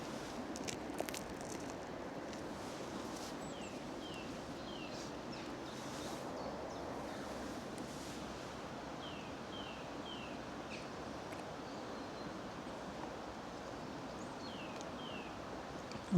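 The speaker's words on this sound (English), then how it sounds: "Now I'm outside listening to the river." A river flowing outdoors makes a steady, even rush of water that fills the whole stretch, with faint bird chirps scattered over it.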